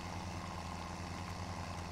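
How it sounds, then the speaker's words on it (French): A tractor engine in Farming Simulator 17 labours under strain, a low, steady rumbling drone with a pulsing throb, continuous and alone without talk. "on entend le tracteur qui galère"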